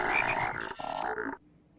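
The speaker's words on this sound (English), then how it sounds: "Turns out one of the passengers was a bunch of frogs all along!" A bunch of frogs croak loudly and up close in a video game for about a second and a half, then cut off abruptly, leaving only faint quiet behind, with no talk.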